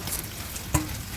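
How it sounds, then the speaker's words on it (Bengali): Potatoes frying in a pan: a soft, steady sizzle with a brief stirring scrape partway through, close and fairly quiet, with no voices. "আলু ভাজাটা একটু বেশি করে করছি"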